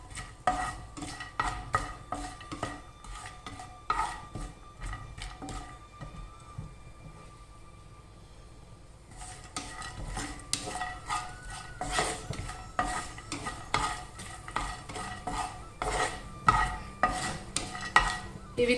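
Cashews and almonds, then raisins, frying in a pan while a utensil stirs them, making repeated scraping and clinking strokes over a light sizzle, with a quieter pause partway through.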